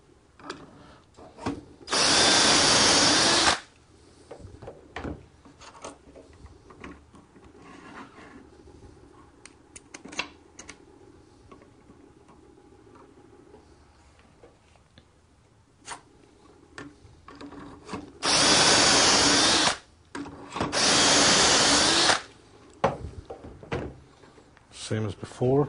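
A power drill bores dowel holes through a Dowelmax jig clamped to a wooden workpiece: three loud, sustained bursts of drilling, with quieter handling, clamp and tool noises between them.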